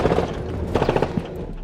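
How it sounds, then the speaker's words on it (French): Gunfire at a military convoy in Cameroon's Northwest and Southwest regions, several quick bursts of shots in a close, rattling cluster, then a single later crack over a low rumble. "Des tirs sur le convoi."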